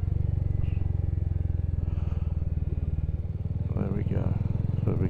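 Royal Enfield Hunter 350 motorcycle engine rumbling steadily as it downshifts to second gear, with a low, even throb throughout and a voice talking over it near the end.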